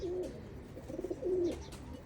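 Pigeons in a loft coo in low, soft, warbling phrases, two or three drawn-out calls in quick succession, faint against the room's background.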